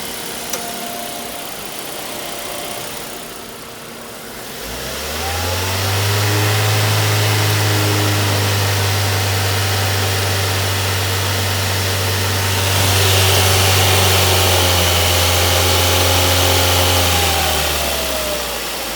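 A Ford Mondeo engine that has just had an oil change fires up and settles into a steady, loud idle with a deep low hum that continues for about twelve seconds before fading.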